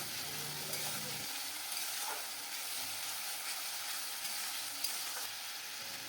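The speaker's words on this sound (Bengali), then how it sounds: "পেস্টটা দিয়ে একটু নেড়ে চেড়ে নেবো বেশ ভালো করে" Onion paste frying and being stirred in a pan for a potol dorma, a steady close sizzle with intermittent scraping stirs throughout, no talking.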